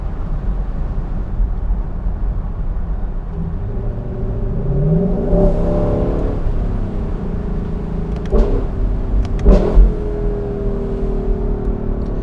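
A 2021 Lexus LC 500 convertible with its V8 engine on a night drive, heard from inside: a steady low rumble and wind noise, with rising revs as it accelerates and a couple of sharp throttle blips and gear shifts.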